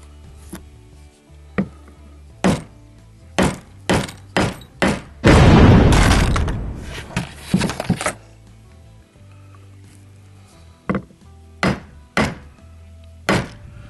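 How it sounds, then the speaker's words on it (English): Sharp metal hammer strikes on a grommet setting tool land one after another at an irregular pace, close and loud, with a burst of crunching noise in the middle. "So you just hammer it a few times, hammer it really hard"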